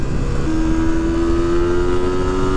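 A trail motorcycle in Corsica is held at full throttle, its engine a loud, steady, rising drone heard up close with a whistling tone climbing gradually.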